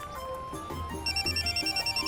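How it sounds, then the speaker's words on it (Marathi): Mobile phone ringing in a home scene: a steady electronic ringtone with a repeating beeping melody of rapid, evenly spaced pulses, loud and close, with faint background tones before it. "अरे माझा फोन वाजतोय"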